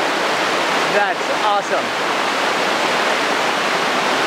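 Water pours steadily from a rock cave into a pool above the main falls of a natural waterfall in Satun, Thailand, a loud continuous roar throughout, with a brief spoken remark over it early on.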